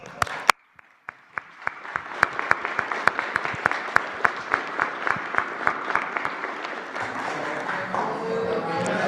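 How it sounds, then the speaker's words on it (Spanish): Rhythmic clapping from an audience at a press conference in Mexico City's Zócalo, starting after a brief silence and building into steady, fairly loud applause that continues throughout. "Un aplauso."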